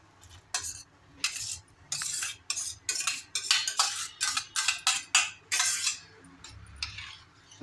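Repeated metallic scraping and clinking of a utensil stirring watermelon rind pieces in a pot of boiling sugar syrup, in quick irregular strokes with no voices.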